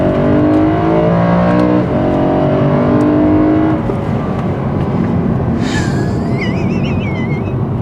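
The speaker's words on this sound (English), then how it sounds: "hold the throttle nicely, let the car work, accelerate out." BMW M3 E92 with its V8 engine pulls hard out of a corner in second gear, a loud, steady engine roar with rising harmonics that settles into a lower, rougher drone partway through; a faint whining tone appears near the end.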